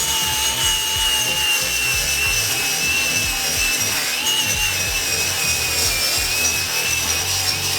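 A flap wheel grinder abrades foam insulation on a homemade Formula One car build, a loud, continuous, close-up rasping whir with a steady high whine throughout.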